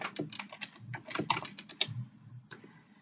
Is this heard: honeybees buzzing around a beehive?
no